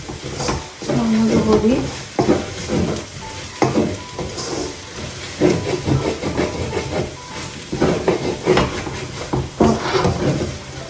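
Pork roasting in a pan with chili powder, a continuous hiss and sizzle with intermittent scraping and stirring sounds, close and fairly loud, with faint talk at moments.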